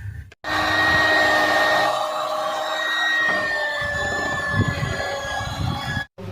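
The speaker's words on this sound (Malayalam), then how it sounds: "നമുക്ക് ബാക്കിയുള്ളതൊന്ന് ബീറ്റ് ചെയ്തെടുക്കാം" An electric hand beater whirs loudly and steadily while beating cake batter from a black forest cake mix, a continuous close motor drone with shifting pitch, cutting off briefly at the start and end.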